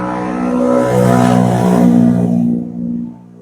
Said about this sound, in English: noisy bike